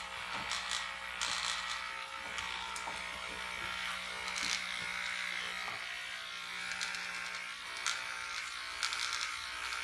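Electric hair clippers set to a number 1 guard trim along the neckline of a buzz cut, a steady close motor hum with brief scratchy bursts as the blades bite through hair.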